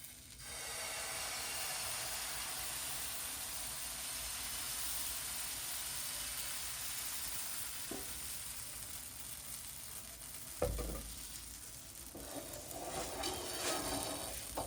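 Oil hisses and sizzles steadily in a pan while sweet puda batter fries at home, a soft continuous crackling texture with a couple of sharp clanks from utensils near the end.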